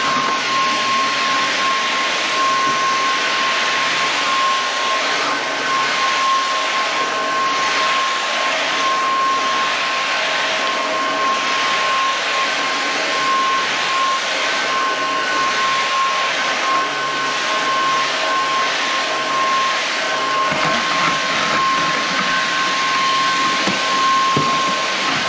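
Inse cordless vacuum cleaner running steadily with a high-pitched whine and airflow hiss, continuous and close, with slight changes as it moves into corners.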